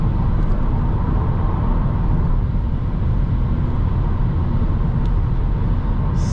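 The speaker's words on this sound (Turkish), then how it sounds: "Sadece rüzgar gürültüsü artıyor." A car cruising at high speed, roughly 110 km/h, fills the cabin with a steady, loud broadband rush of road and wind noise, unbroken and with no talking.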